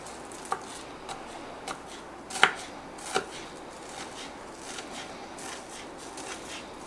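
A knife chops fresh garden chives on a board, light irregular taps, one sharper knock standing out, over a quiet steady room hiss with no talking.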